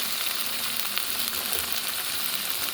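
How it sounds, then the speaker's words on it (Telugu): Raw ginger garlic paste frying in a pan for a restaurant-style paneer brinjal gravy produces a dense, constant close sizzle with a bright hiss throughout. "మనము అల్లం వెల్లుల్లి పేస్ట్ వేసేసుకుందాం పచ్చిగా"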